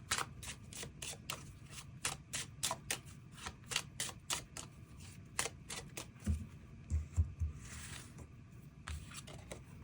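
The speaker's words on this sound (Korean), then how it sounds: "추가 카드 뽑아보도록 하겠습니다" Tarot cards being shuffled and drawn, a rapid run of crisp close riffling snaps at first, then sparser card flicks and slides later on, with no speech over them.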